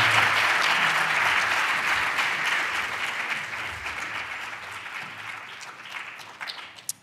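An audience claps steadily to welcome keynote speaker Shaun Donovan at an event, a full, sustained round of applause that slowly thins and fades toward the end.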